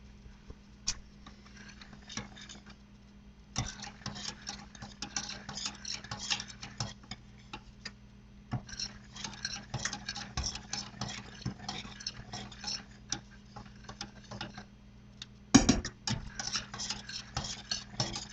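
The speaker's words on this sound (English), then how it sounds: "You just want to kind of whisk it together just to get everything combined and melted" A whisk beats macaroni and cheese sauce in a pot, quick rhythmic metallic clicking in bursts separated by short pauses, with a sharper clank near the end and no talking.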